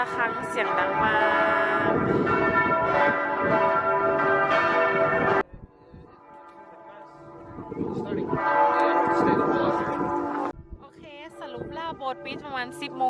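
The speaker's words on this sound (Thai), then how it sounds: "ระฆังเสียงดังมาก" A church bell in Iceland rings loudly with long, resonant overlapping tones in two strong bursts separated by a brief lull.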